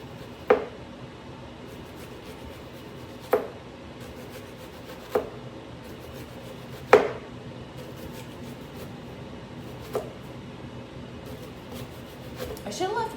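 A knife slowly chops a red onion on a cutting board, giving about six sharp, isolated taps spaced a few seconds apart over a low, steady room hum.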